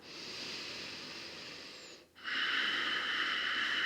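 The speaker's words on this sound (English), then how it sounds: "Take a breath." During a yoga bridge pose, a close, breathy exhale is followed by a short pause and then a sharper, louder inhale through the nose, soft and intimate with no talking.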